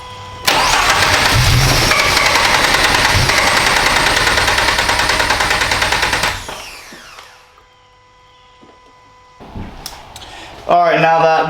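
A turbocharged Toyota GR86 cranks and fires up loudly, holding a rough, revving idle for several seconds before shutting off, with quiet handling noises and a brief voice afterward.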